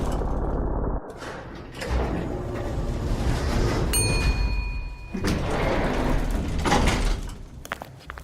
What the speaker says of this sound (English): Ice, you jump up, push the button, and you see the doors close